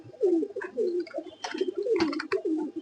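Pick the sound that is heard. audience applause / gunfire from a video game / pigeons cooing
pigeons cooing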